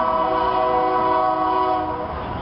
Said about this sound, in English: There's our local train.